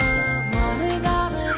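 A phone message notification chime rings out in bright tinkling tones, short and clear, over a soft background melody.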